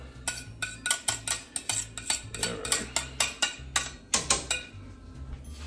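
A spoon scrapes and clinks rhythmically against a cooking pot while arroz con pollo is stirred, about a dozen quick, close strokes in a steady back-and-forth pattern with no talking.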